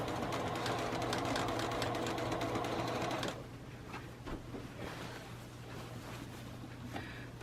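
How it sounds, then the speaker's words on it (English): Sewing machine slowly stitching with the presser foot running alongside cardboard while making a sewing caddy: a steady, close mechanical whirring hum for about three seconds, then stopping, leaving faint handling noises. "with my presser foot riding alongside the cardboard, I'm just going to sew a stitch"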